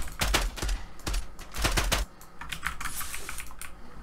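Fast, loud clatter of computer keyboard keys with mouse clicks during a Zula shooter game session, dense bursts of keystrokes followed by lighter, scattered tapping, heard close and alone.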